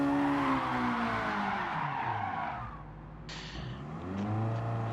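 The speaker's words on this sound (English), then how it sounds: "And ramming into the wall, unfortunately." A race car in Gran Turismo 7 slides sideways in an online race, tires squealing in long wavering screeches over a revving engine before it rams into the wall, all loud and close with no talking.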